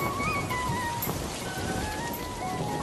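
Steady rain pours down in a village cartoon scene beside a river, a dense, even hiss of drops with a few brighter drip accents, loud and continuous for a few seconds with no voices.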